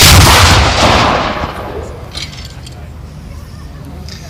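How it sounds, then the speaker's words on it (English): A WWII tank gun fires a single blank round during a mock battle at a military show, one loud nearby boom that rolls away into a long fading outdoor echo. "we're going to fire this gun"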